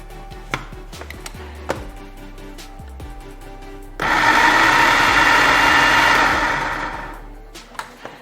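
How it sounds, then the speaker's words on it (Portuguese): Several knife chops tap on a board, then a food processor chopping prunes whirs loudly for a few seconds before winding down, followed by light clinks. "Agora eu vou levar ele para o multiprocessador."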